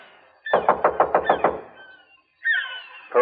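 Rapid knocking on a door, six firm raps in a quick even burst, close and loud, followed by a pause and a brief louder sound at the end.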